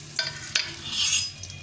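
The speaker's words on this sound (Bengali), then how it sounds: "বড়িগুলো একটু ভেজে নেব" Lentil dumplings (bori) coated in salt and turmeric frying in hot oil, a brief close sizzle with two quick stirring scrapes and a swelling hiss, no talk.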